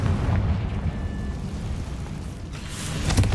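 A Confringo fire blast spell cast in the Hogwarts Legacy video game, a rushing burst and boom with a roaring tail, then another sharp pop at the end.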